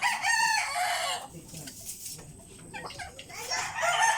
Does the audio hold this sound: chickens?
yes